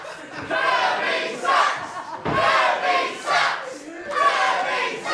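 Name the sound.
wrestling crowd jeering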